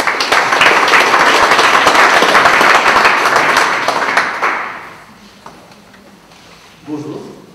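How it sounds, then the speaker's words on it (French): An audience at a talk on A3 problem solving applauds Pascal, a loud burst of clapping that fades out after about five seconds, followed by a brief voice. "Et on peut applaudir Pascal."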